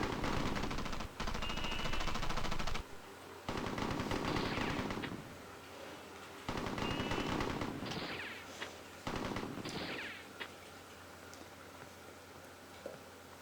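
Browning automatic rifle fired in a gangster film scene: long, loud bursts of rapid automatic fire broken by short pauses, with scattered impacts and debris sounds between bursts.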